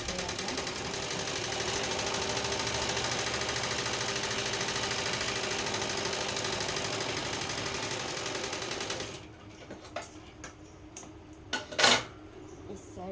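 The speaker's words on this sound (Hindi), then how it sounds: "तो जैसे कि अब मैं सिलाई करूँगी" A sewing machine runs in one steady, continuous stitching burst while a suit is sewn, then stops near the end, leaving a few faint clicks and handling noises.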